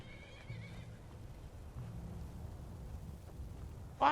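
A horse in Skyrim whinnies during a fight, giving two short, fairly quiet neighs a second apart over faint hoof clatter, ending with a sharp burst of impact noise.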